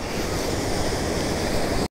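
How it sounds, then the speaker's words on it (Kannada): Water pours and rushes steadily nearby in Bengaluru, a loud, continuous wash of noise that cuts off abruptly at the end. "ನೀರು ಹೋಗ್ತಾನೆ ಇದೆ."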